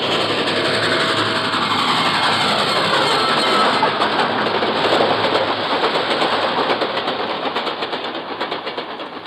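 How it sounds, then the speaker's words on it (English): A loud, steady roar of a train rumbles close by, a dense wash of rail and engine noise that gradually eases toward the end. "I can make out an approaching roar. Another train heading right for me."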